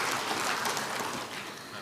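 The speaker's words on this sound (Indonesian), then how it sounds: "Tepuk tangan untuk para kader konservasi." Audience applause for conservation cadres at a ministerial speech event, a steady broadband clatter of many hands clapping throughout, moderately loud and slightly fading toward the end.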